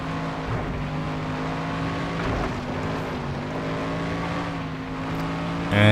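Racing car engine in FlatOut 2 on the PS2, a steady droning growl held at high revs with a slight pitch wobble, loud and continuous, then a brief surge at the end.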